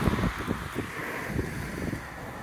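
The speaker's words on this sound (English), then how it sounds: "Very windy day today." Wind gusts buffet the microphone outdoors on a car lot beside a 2009 Honda Fit, a continuous low rumbling roar with irregular thumping bursts, loud and close throughout.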